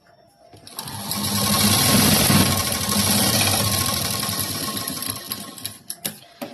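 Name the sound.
sewing machine stitching a blouse sleeve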